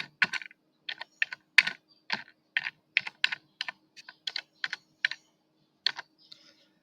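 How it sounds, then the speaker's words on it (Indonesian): Keystrokes on a computer keyboard while typing a command into a Lubuntu terminal: a quick run of about twenty crisp, close clicks in uneven bursts with short pauses between them, with no voices. "Kemudian ketik di qterminal ls-l home."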